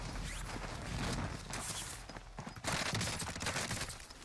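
Rapid bursts of gunfire crackle in the Warzone video game, dense and continuous in a chaotic firefight, fairly loud throughout.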